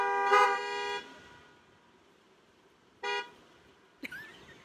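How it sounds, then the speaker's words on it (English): A car horn honks loudly for about a second, followed by a quiet pause, then another short honk and a brief distant toot. "All the people that have a mother in your car, honk the horn."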